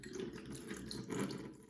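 Coolant drains from the radiator of a Suzuki RM125 motorcycle in a steady, close, continuous trickle and splash of liquid, with no talk over it.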